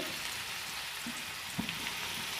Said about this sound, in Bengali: এটা আমি ব্রাউন কালার করে ভেজে নিব